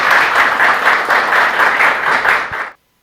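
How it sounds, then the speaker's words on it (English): An audience at a laparoscopic and endovascular surgery workshop applauds to welcome a speaker: dense, steady clapping from a crowd for about two and a half seconds, then an abrupt stop into silence. "Give me a big round of applause for Dr."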